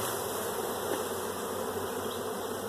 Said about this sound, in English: get about 300 bees in this